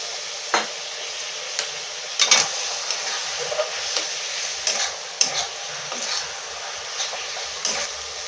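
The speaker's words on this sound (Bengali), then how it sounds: "মশলাটা ভালো করে কষানো হবে।" Masala spices being sautéed in a pan for a jackfruit chicken curry: a steady low sizzle broken by repeated scraping stirs of a spoon against the pan, close and alone.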